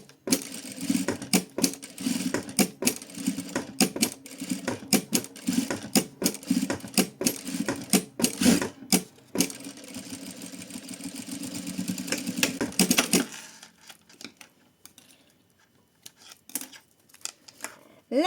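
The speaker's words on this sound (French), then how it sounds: "Et je viens réaliser une couture tout autour à quelques millimètres du bord." A sewing machine stitching around the edge of a fabric flower keychain gives close, rapid bursts of mechanical clicking and whirring, then stops, leaving a quieter stretch with a few faint handling sounds.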